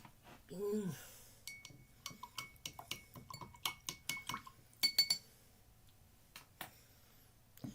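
A spoon stirs a drink in a glass, giving a quick series of light, close metallic clinks in an uneven rhythm that builds and then trails off, following a brief voice at the start.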